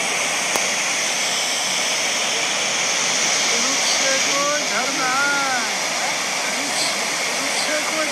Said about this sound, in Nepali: रुप्से नगदीको रुप्से झरना, रुप्सेको झरना